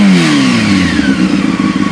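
A motorcycle engine, on a bike picked as a first ride from the 250, 300 or 600 class, revs up loud and close. It rises and then falls back to a low, grumbly idle, and no voices are heard.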